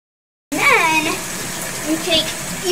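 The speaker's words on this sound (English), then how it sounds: "and it turns on the water" Water gushes into a laundromat washing machine as it starts filling, a loud steady rush that begins abruptly after a half-second of silence, with a voice audible over it.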